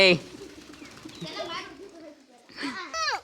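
Pigeons coo near a rural farmyard, soft throaty calls mixed in with nearby people talking and children's voices.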